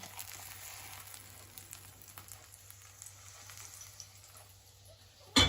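Soft, steady sizzling of a filled lavash wrap frying in a pan, quiet and continuous with faint crackles, ending in a brief louder clunk.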